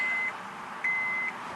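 A Honda Odyssey minivan sounds its reversing beeps after being shifted into reverse: two steady, fairly loud electronic tones, the second longer, over a constant background hum.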